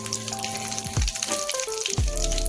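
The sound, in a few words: cumin and mustard seeds sizzling in hot oil in a kadai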